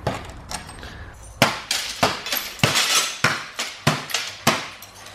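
An old plasma TV screen's two-layer glass is hacked at, giving about eight sharp, loud cracking and crunching impacts at an uneven rhythm, with the glass chinking and splintering between blows.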